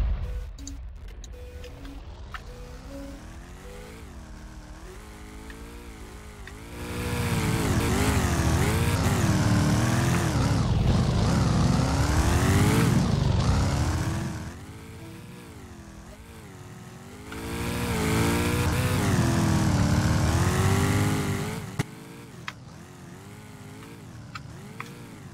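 A farm tractor engine in the Roblox video game, revving up in two long loud sustained stretches with rising and falling pitch, separated by quieter idling.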